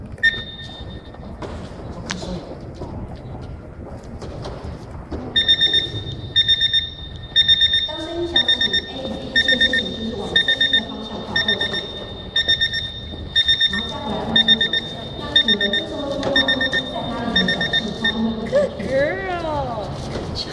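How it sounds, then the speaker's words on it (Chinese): A kitchen timer alarm sounds in a hearing dog demonstration, a steady high electronic beeping pulsing continuously for most of the time while a person speaks over it. "来做一个简单的它如何通知计时器的这个部分的示范"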